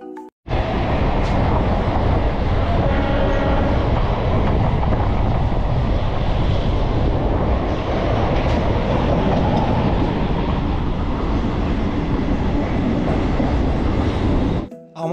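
A moving passenger train bound for Phuleshwar roars loudly and steadily from on board for about fifteen seconds, with rhythmic rail clatter and wind buffeting after an abrupt start.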